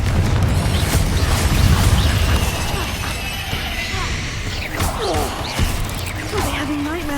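Confringo explosive spell blasts during a Hogwarts Legacy fight in the unicorn quest: loud booming impacts and crashes with whooshing swells over steady noise, and a few bright tonal effects near the end.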